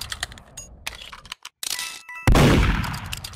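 Gunfire in the Murder Mystery video game, sharp game-audio shots and bursts with a loud blast near the end, heard alone without talk.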